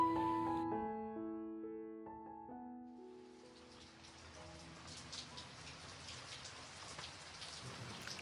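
Steady rain falls and patters on surfaces, a dense hiss that builds after a fading piano phrase at the start. A faint voice is heard briefly near the end.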